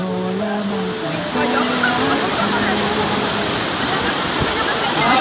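Maapon Falls pours in a loud, steady rush of white water close by, a broadband roar that continues throughout, with people speaking and calling out over it.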